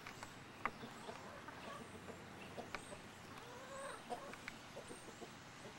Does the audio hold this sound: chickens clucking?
yes